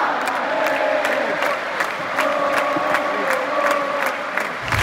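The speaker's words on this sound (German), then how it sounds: "Gibt nochmal Applaus hier von der Tribüne." Fans in the stands of a stadium after a Braga versus Real Madrid match applaud and cheer, sustained crowd clapping with rhythmic claps and a broad roar carrying on throughout.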